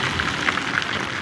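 Steady rain falling on an evening street during a ride-hailing driver's shift, a dense continuous hiss with scattered droplet ticks, fairly loud and even throughout, with no talking.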